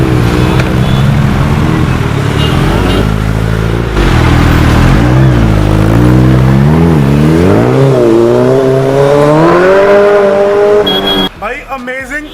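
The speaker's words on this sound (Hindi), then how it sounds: "Now Arjun Bhaiya finally riding the Hayabusa 2021 in an exhaust." A 2021 Suzuki Hayabusa fitted with a new Akrapovic exhaust roars close by as it is ridden, its loud, continuous engine note climbing through repeated revs before cutting off abruptly near the end.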